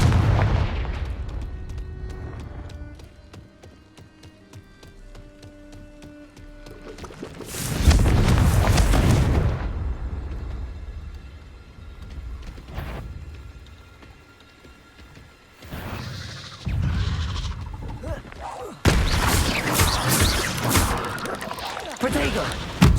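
Heavy blasting-spell explosions in the Hogwarts Legacy video game, two or three loud booming bursts with rumbling tails between quieter stretches of game sound, and a voice speaking in between.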